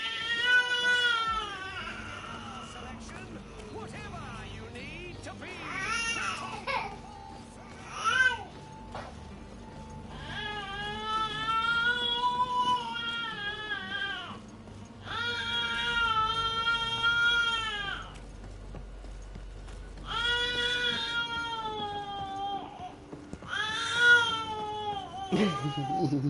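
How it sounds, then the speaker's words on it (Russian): A cat meowing in the video game Greedfall: a series of drawn-out, wavering meows and cries repeated over several seconds, close and prominent, with a low ambient game backdrop. "Мяукает, да?"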